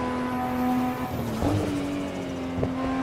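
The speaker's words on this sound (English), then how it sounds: "This GTR just beats the Supra in sounds." A Nissan GT-R engine in the racing game Assetto Corsa drones at steady high revs with a whining tone, a brief surge in the middle, under faint wind-like noise.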